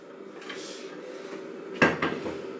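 A cooking pot is handled with soft scrapes, then a sharp metallic clank and a lighter knock as it is set down.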